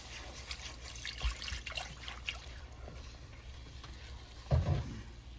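Homemade broth pours and trickles into a pan of turkey gravy, a soft steady liquid stream with a faint sizzle and stirring, plus a louder splash near the end.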